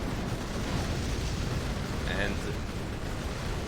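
Continuous rumbling explosions from Sunstorm fire support in the real-time strategy game Rise of the Reds, a dense, steady low roar of blasts throughout, with a brief word spoken over it.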